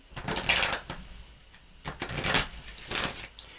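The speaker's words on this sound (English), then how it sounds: "I'm aware that the shuffling sometimes is quite loud on the microphones." Tarot cards are shuffled in bursts of crisp riffling and slapping, loud and close to the microphone, with short pauses between rounds.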